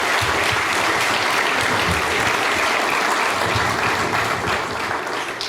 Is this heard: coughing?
no